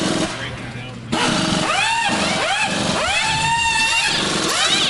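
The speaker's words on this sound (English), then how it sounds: "what you hear in the background is the pit crew competition" Pit crew competition at a race track, with tires being jacked up and changed: repeated whining bursts rise and fall in pitch, about five in a row, loud and close, while a person talks over them.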